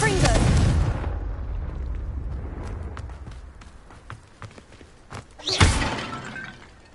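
A Confringo spell in Hogwarts Legacy hits a vase: a loud explosive blast and breaking crash at the start, scattered debris clatter, then a second sharp burst of shattering near the end.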